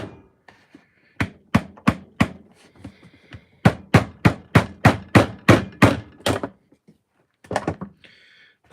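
A hammer tapping during work in a cosplay and game room, heard as a loud, steady series of sharp knocks in several bursts, close by and alone without speech.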